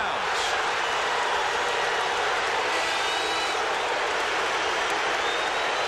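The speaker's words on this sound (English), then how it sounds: "Crowd's looking for a foul," A packed basketball arena crowd at a 1997 Kentucky versus Louisville game roars in protest, calling for a foul. The noise is a loud, continuous wall of cheering and shouting that holds at the same level throughout.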